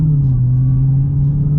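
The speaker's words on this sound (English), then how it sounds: "now I'm driving a 717 horsepower Hellcat Challenger" A 717-horsepower Dodge Challenger Hellcat engine while driving, a loud, close, steady low rumble with a deep droning tone and no voices.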